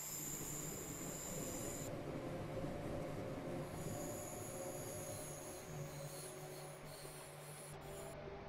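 A Class 466 electric train on the Sheerness Branch in Train Simulator 2015 rolls past with a sustained rumble, wheel noise and high squealing tones that shift partway through, heard alone.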